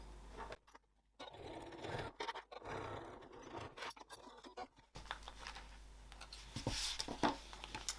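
A sewing machine stitches a seam on fabric for a clamshell sling, its motor running in steady whirring bursts with short pauses between them, close and fairly quiet.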